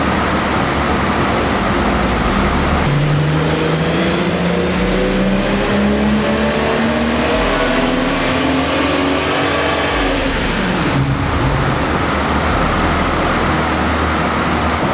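A car fitted with an AWE axle-back exhaust roars through a full dyno pull, its engine note climbing steadily for several seconds, then dropping off as the run ends, loud and continuous throughout.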